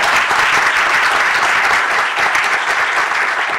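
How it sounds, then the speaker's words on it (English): Audience applause at a STEM event, a dense, steady wash of many hands clapping at once, loud and close throughout with no talk over it. "So let's give them a round of applause."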